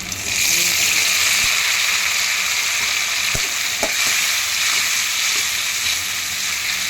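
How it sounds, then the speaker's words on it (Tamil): Onion and tomato sauté in hot oil for a yellow pumpkin tamarind curry, a loud, continuous close sizzle with occasional spoon scrapes against the pan throughout. "வெங்காயம் தக்காளி நல்லா வணங்கிட்டோம்"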